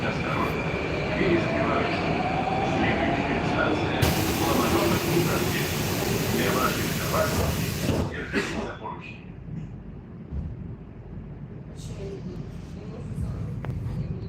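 A Moscow Metro train rumbles and rattles nearby with a steady roar, a burst of hissing, then the noise fades to a quieter hum.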